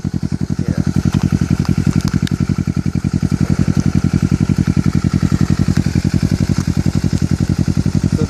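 A 2013 Kawasaki Ninja 650 with a Two Brothers full-system exhaust held at full throttle, a loud, steady, rapidly pulsing engine roar that runs unbroken from start to finish.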